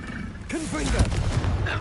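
A Confringo fire blast spell goes off in Hogwarts Legacy, a sudden burst followed by dense crackling, booming combat noise with swooping tonal effects and a voice sounding over it.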